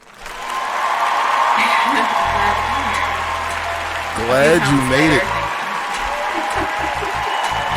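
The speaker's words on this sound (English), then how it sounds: "I get a round of applause for that shit" Audience applause swells through a comedy talk-show set, continuous and moderately loud, with someone speaking over it partway through.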